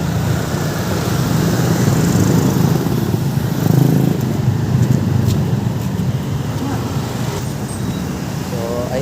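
Engine drone of a Yamaha YM 110 motorcycle being ridden along a road, a steady loud hum with wind and traffic noise mixed in, continuous for the whole stretch.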